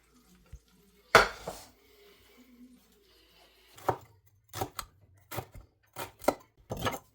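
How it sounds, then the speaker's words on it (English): A knife chops through peppers on a board, a hard thump first, then a short run of irregular sharp knocks and cuts, close and clear, in a quiet kitchen with a faint hum between strokes. "Everybody cuts peppers different."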